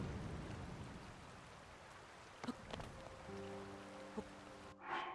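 Steady hiss of rainfall in Zelda: Tears of the Kingdom, with scattered soft taps and a few brief tonal game sounds near the end.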